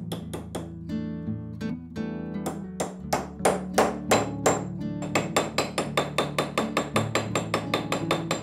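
A new wooden handle is hammered into an axe head with sharp, ringing blows that start irregular and spaced, then become a fast, steady run of close, loud strikes.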